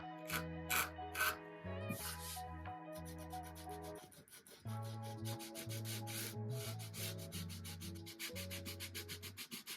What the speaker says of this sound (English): I used my X-Acto knife and sandpaper to clean it up.